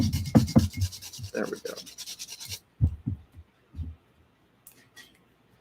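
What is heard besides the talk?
grinding down dried plant pieces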